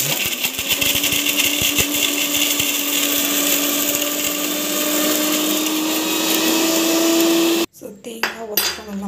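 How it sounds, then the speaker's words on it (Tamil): A mixer grinder runs loud and steady, grinding coconut and onion with a constant whine and faint rattling of the jar, then stops abruptly near the end, followed by clinks and handling noises. "இது வந்து மிக்சியில் போட்டு அரைச்சிடலாம்"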